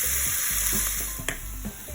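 An omelette cooking in a pan over a very low flame, a continuous close sizzle and hiss with faint soft scrapes, steady throughout.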